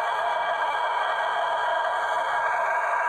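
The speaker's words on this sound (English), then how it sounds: "Death metal rooster!" A rooster crows in one sustained, strained, raspy call, held steadily without a break.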